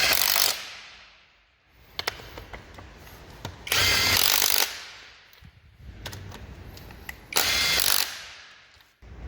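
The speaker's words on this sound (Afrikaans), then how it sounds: "En dan draai net al jou boute vas." A power tool tightens bolts on a Ford 5000 tractor in three loud, whirring bursts about every three and a half seconds, with metallic clicks and knocks in the quieter gaps between.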